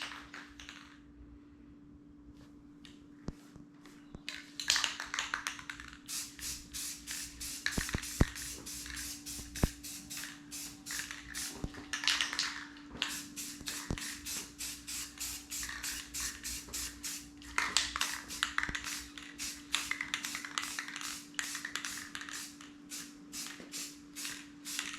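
Spray can bursts of primer, paint and clear coat on a Jeep Commander part, a series of hissing sprays in short and longer passes over a low steady hum, with a few light taps and handling noises.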